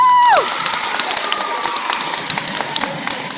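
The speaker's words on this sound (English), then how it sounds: "give yourselves a round of applause" An audience cheers and applauds together, with excited shouts and scattered clapping following a brief whistle-like tone at the start, lively and close.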